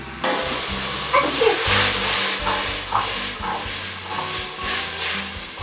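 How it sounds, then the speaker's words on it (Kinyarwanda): Onion, green pepper and celery sautéing in a pot for peanut sauce: steady loud sizzle and hiss throughout, with a faint background hum and no talking. "Ukimara gushyiramo igitunguru, ukimara gushyiramo pavuro na seleri, uzajya usimbiza gutya."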